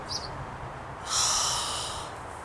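A bird lets out a single loud, harsh, breathy screech lasting about a second, over faint background hiss, with a brief high chirp just before.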